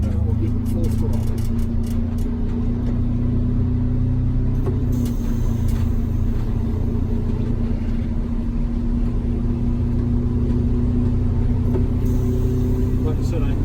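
Inside a GM 4106 bus, the engine drones loud and steady under heavy throttle, a continuous low rumble with a constant tone, while someone talks.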